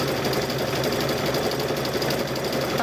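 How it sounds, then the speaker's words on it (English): A sewing machine stitches a rope bowl with fabric, running continuously with a dense rapid mechanical chatter at steady speed, close and fairly loud without pause. "just keep sewing."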